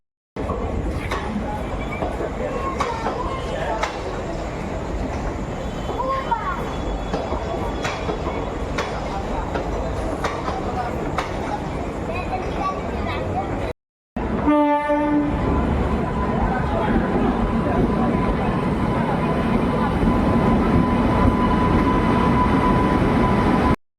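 Night train arriving at Dwarka railway station in Gujarat: continuous rumble and rail noise, a brief break, then a louder passage with a horn-like tone and rolling wagons, people talking nearby.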